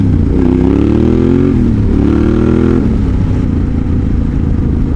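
A motorcycle on a test ride, loud and close, its engine revving and pulling through short-shifted gears, with a rising then falling pitch under steady wind rush for the whole stretch.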